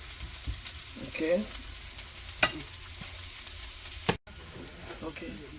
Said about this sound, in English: I'm going to allow this one to saute well